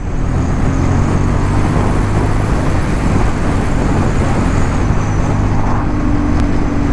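A 2023 Honda CB750 Hornet's parallel-twin engine drones steadily while riding, a constant loud engine and road rumble with wind noise that holds level throughout, no voices present.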